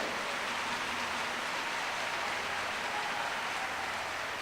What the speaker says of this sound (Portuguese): Se você vai aplaudir ao Senhor, aplauda melhor.